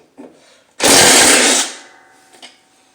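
A power tool, likely an impact driver or drill, loosening 10mm bolts on the spindle of a Craftsman T110 riding lawn mower during spindle replacement; a single loud burst of under a second, close up, with brief handling clicks around it.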